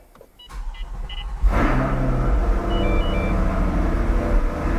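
Chevrolet Corvette C8 sports car starting up, with a brief electronic chirp before the engine catches at about one and a half seconds into a loud, steady idle rumble that continues to the end.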